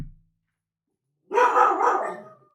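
A dog barks in a short, rough burst of about a second after a brief silence, fairly close and alone.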